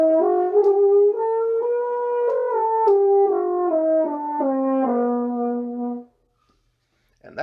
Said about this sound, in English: And that is how a French horn sounds.